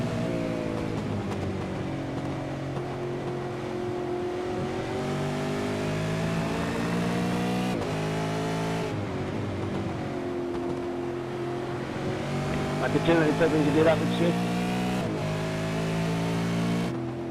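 V8 touring race car engines at Monza, a sustained loud onboard engine drone with rising and falling pitch through gear changes and revving, heard without talk.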